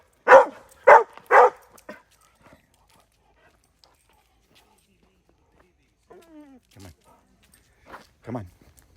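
A dog on a hike at a park lake loop near Atlanta gives three sharp close barks in quick succession, followed after a quiet gap by faint whimpering and a couple of softer yelps.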